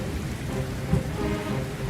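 A great storm at sea pours steady heavy rain with a continuous rumbling roar of thunder and wind beneath it, loud and unbroken throughout.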